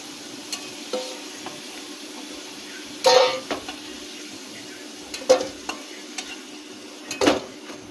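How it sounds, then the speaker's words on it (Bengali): Potatoes frying in oil in a pan while a chicken curry is cooked, with a low steady sizzle broken by a few louder scraping stirs and clinks of a utensil. "আলুগুলো লাল লাল করে ভাজা হয়ে গেছে, এবার আমরা তুলে নেব"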